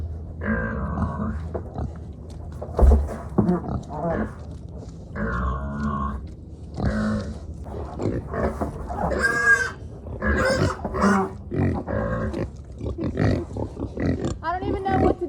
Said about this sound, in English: The pig was way too big for the hole.